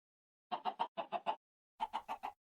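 A Minecraft chicken in the FTB StoneBlock 4 modpack clucks in quick bursts of three, then another short run of four, each cluck crisp and close against complete silence.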